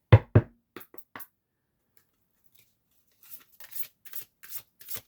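Moonology oracle cards are handled close by: two sharp taps and a few soft flicks, a pause of near silence, then a rapid run of crisp riffling and snapping as the deck is shuffled.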